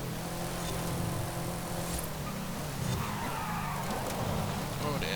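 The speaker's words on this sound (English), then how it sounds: "It still sounds great as well with that supercharged whine going on over the top." The Hennessey Camaro Exorcist races in Forza Horizon 5. Its supercharged engine whines steadily over a roaring drone, with some tire noise along the way, and a voice talks over it.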